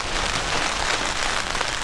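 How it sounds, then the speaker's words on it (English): Steady, dense rain drums on a tarp at a campsite in Algonquin with gusting wind, loud and close throughout. "So rain's picked up again"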